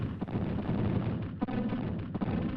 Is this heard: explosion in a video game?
yes